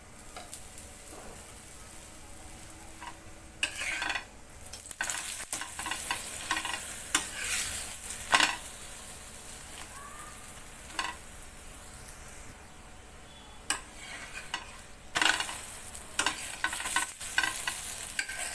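Puran poli cooking on a pan with ghee gives a steady, soft sizzle broken by repeated scraping and spreading strokes of a spatula, with occasional sharper clatters, close and without talk.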